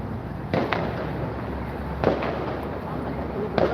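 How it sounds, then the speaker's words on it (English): Fireworks go off on the horizon, giving three dull, distant booms at even intervals over a constant low outdoor rumble, with a voice speaking faintly. "Can I show you those fireworks on the horizon now?"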